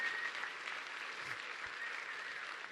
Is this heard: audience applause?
yes